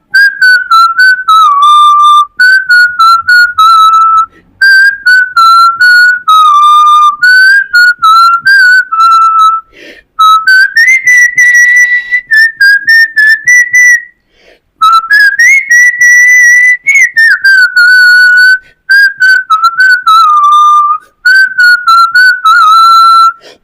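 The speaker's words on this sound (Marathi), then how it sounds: "मी शिट्टीतून गाणं म्हणून दाखवणार" A person whistling a song alone, a clear, loud melody in bright sustained phrases with short breaks between lines.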